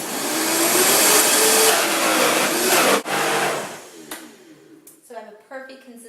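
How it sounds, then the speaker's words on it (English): A kitchen blender whirs loudly as it purees garbanzo beans into hummus, a steady motor roar that stops abruptly, after which someone talks. "and I'm going to puree it again"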